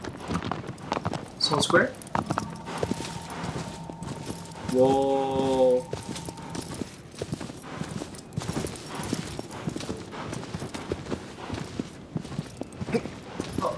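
Horse hooves in the video game Shadow of the Colossus, a fast, steady clip-clop of galloping over game music and a short tonal chime, with someone talking over it.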